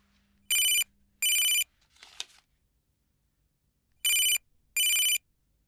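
Telephone ringing in two pairs of short, bright electronic double rings with a pause between them, fairly close in a quiet room, with a brief rustle in the gap.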